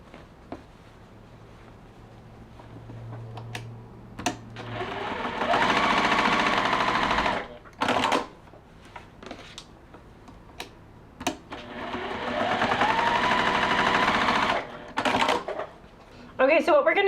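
A sewing machine stitches a quilted holiday pillow in two fast, loud runs, separated by quieter stretches with a voice talking.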